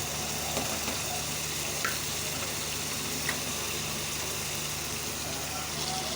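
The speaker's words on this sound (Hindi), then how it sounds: "देखिए व्यूअर्स, मटन बहुत अच्छे तरीके से भून चुका है।" Mutton pieces bhuna-frying in oil with masala give a steady, even sizzle that runs throughout, with a few faint clinks of stirring and no voices.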